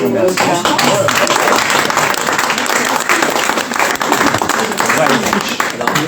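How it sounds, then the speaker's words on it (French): A room full of people at a French business breakfast applauds loudly and steadily after a presentation, close dense clapping with voices mixed in underneath. "nous, on a applaudi d'autant plus"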